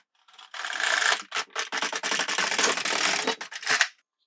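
An LK150 knitting machine carriage is pushed across a row at highest tension, making a rasping, clattering mechanical run with short pauses and clicks, ending in a sharp knock near the end.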